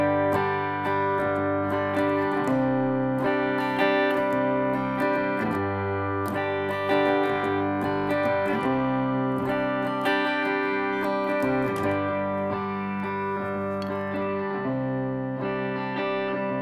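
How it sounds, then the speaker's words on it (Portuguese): Electric guitar run through a Zoom G1XOn effects unit, sustained distorted chords ringing steadily with a few changes, loud and alone with no talking. "Aqui está o som da guitarra."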